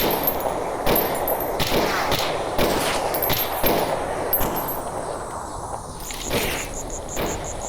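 Gunfire in the shooter Stalker Anthology comes as a series of sharp, loud shots in irregular bursts, roughly every half second to a second, over a steady background hum with faint metallic clinks.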